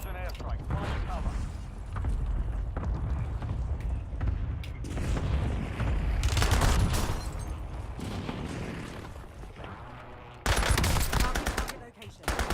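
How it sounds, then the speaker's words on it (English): An enemy precision airstrike lands in Warzone, with a sustained roar of heavy blasts and gunfire-like booms rolling on for several seconds before sharper loud bursts near the end, mixed with faint talk. "Enemy precision airstrike. Find cover."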